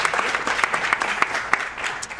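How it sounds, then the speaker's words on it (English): A live audience claps at a comedy Q&A show, a short burst of scattered, fairly sparse hand claps with distinct individual slaps, moderately close and without talking. "Yeah, clap!"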